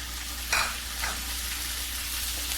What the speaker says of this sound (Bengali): এগুলো বাজা হয়ে গিয়েছে টমেটো কুচি দিয়ে দেবো